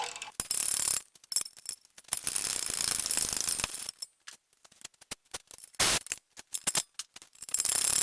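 A ratchet wrench loosens the 15mm caliper bolts on a 2017 Ford Escape during rear wheel bearing work. Bursts of rapid metallic clicking come close up, broken by short pauses and bolt handling.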